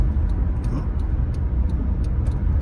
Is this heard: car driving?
yes